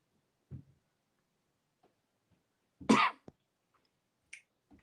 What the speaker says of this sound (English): I'm coughing crazy tonight.